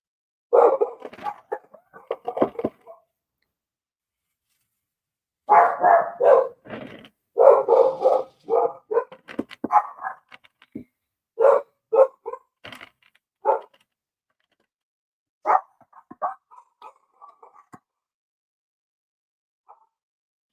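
Dogs barking in bursts, close and loud, with sharp yips and rapid barks in clusters separated by silent gaps, tapering off to a few scattered barks.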